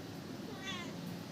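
A mother cat meows to call her kitten, a single faint cry with a longer drawn-out note, over a steady background hiss.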